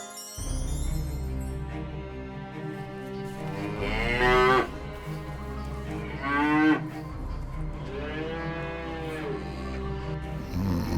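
A buffalo bellows loudly several times in a long, moaning call, close and clear with a low rumbling drone running underneath.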